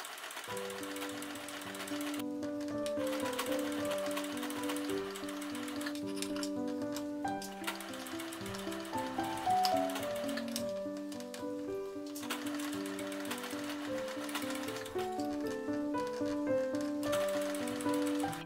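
A sewing machine runs in long, even bursts while edge stitching a reversible hanbok baeja, its rapid needle chatter close and steady, pausing briefly between runs, with no voices.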